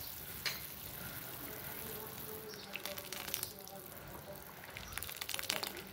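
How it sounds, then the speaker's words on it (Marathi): An uncovered pot of thin groundnut amti, a peanut curry, bubbles vigorously with a steady, faint, hissing, rolling boil and occasional soft pops. "अशा प्रकारे ही आमटी आपल्याला चांगली खळखळून उकळून द्यायची"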